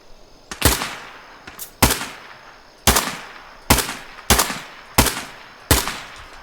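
Rifle fire from a Steyr AUG in a video game, loud single shots cracking out roughly once a second, about seven in a row with short decaying tails.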